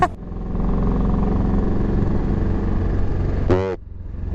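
Two motorcycles rev and speed past through heavy traffic in Dasmariñas, a loud, steady engine roar that holds for several seconds, then a sharp rising whine as one surges by close at the end.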